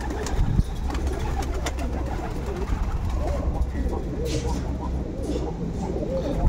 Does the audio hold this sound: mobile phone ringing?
no